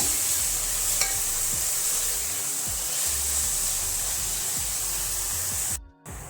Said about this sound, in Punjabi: ਪਿਆਜ਼ਾਂ ਨੂੰ ਆਪਾਂ ਹੁਣ 5 ਮਿੰਟ ਵਾਸਤੇ ਪਕਾਵਾਂਗੇ